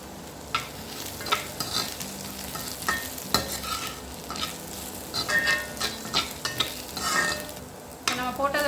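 Cumin, fennel and coriander sautéing in a pan for Chettinad crab masala, with close crackling sizzle and irregular scrapes and taps of a spatula stirring the spices, and no voices.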